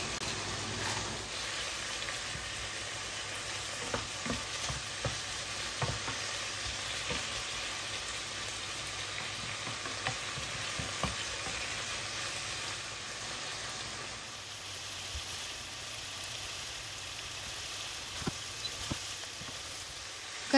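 Mushrooms and bacon frying in a pan for pasta carbonara, giving a steady close sizzle with scattered crackles and pops throughout and no talking.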